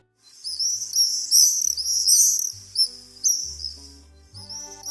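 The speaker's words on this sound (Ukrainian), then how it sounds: "Здогадалися, ця маленька гарна пташка ластівка." Swallows calling, a run of high, bright chirps and twittering phrases that repeat in quick bursts, fairly close and clear, with a faint low hum underneath and no talk.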